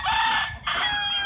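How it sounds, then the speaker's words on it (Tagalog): A rooster crows nearby, a loud drawn-out call with a short break before it carries on. "Pakita ko lang sa inyo yung mga manok ni Abit at saka ni Kapipi."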